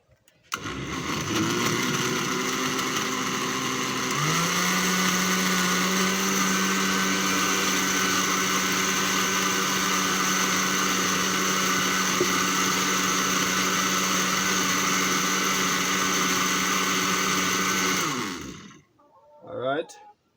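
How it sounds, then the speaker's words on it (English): A kitchen blender whirring through pumpkin punch, its loud steady motor whine running for about eighteen seconds with a slight pitch drop early on, then cutting off abruptly into near silence. "Inside the blender."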